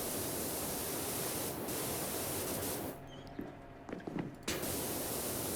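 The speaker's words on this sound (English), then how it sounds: "might as well spray this beam a bit" Pressure washer in PowerWash Simulator spraying a steady hissing jet against a beam, loud and continuous, briefly cutting out near the end before resuming.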